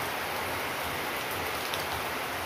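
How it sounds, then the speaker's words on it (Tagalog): Heavy rain pouring steadily at night under a dark sky, a dense, loud, unbroken hiss of water with no voices. "Kaibigan, ang lakas ng ulan."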